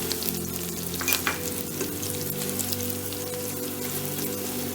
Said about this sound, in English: I add the green chilies at the time of frying so that it's cooked well